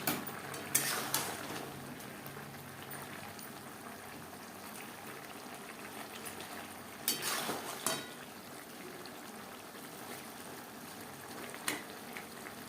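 Fried pabda fish going into a simmering green tomato curry in a pan, faint bubbling and soft simmer broken by a few short splashy sizzles and clinks as pieces are added.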